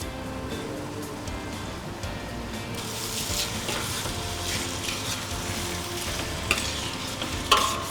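Rice toasts in butter for Uzbek pilaf with an even, close sizzle and stirring throughout. A couple of brief utensil knocks come toward the end.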